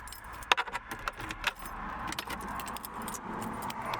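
Car keys jangling in the ignition of a Toyota KE70 with wiring problems, a few sharp metallic rattles early on and then lighter clinking against a low background hum.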